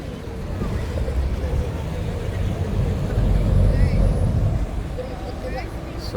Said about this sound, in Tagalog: So ito yung mga transport dito, puro bangka.